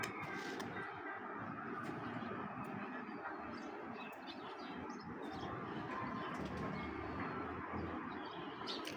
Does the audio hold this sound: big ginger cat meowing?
no